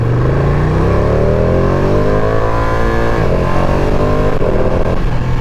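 A Ducati Panigale V2 motorcycle with a Super Quadro engine revs loud and close, its pitch climbing steadily through the gears with a brief dip partway, continuous and alone.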